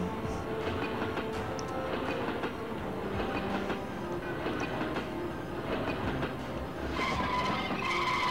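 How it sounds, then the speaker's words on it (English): A train in the Nintendo 64 game Blast Corps rolls along with a steady rumbling clatter and metallic screeching, loud and continuous, a brighter squeal rising near the end. "Let's just hijack this train that everyone was just leaving out."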